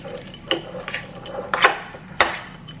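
High-protein cookie dough being mixed by hand in a bowl, with scattered utensil scrapes and knocks against the dish, a few sharper clacks standing out over low room noise.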